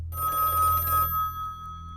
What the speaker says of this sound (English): she's startled when the phone rings